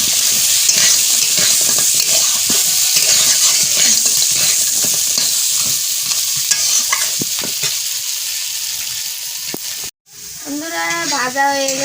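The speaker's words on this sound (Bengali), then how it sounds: "এবার কাঁকড়াটা ভালো করে নেড়ে চেড়ে ভেজে নেব" Crab from the field stirred and fried in a pan, with a steady loud sizzle and scraping stir strokes throughout, a brief break near the end, then bubbling oil returning.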